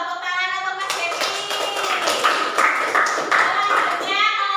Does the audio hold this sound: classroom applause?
yes